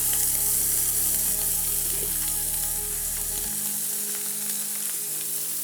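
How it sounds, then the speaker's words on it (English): Sausage sizzles and fries in a pan for Cajun shrimp and sausage pasta, a close, steady crackling hiss with some stirring, while a low background hum cuts off partway through. "let's cook off our sausage. Just need to spread it out"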